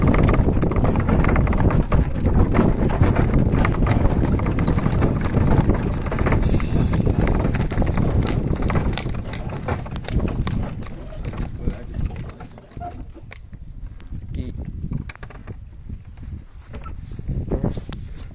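A draft stallion's hooves clip-clop on the ground among gusts of wind buffeting the microphone, with people talking nearby throughout.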